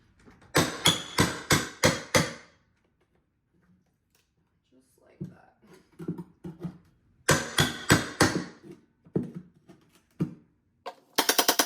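A baseboard tool is driven under carpet tack strip on stairs, giving bursts of sharp, rapid hammering strikes in two groups separated by quiet, with scattered softer knocks and scraping between them.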